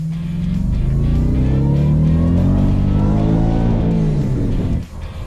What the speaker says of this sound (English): it's got an 800 horsepower Whipple supercharger, and you've gotta love the sound of the whine from it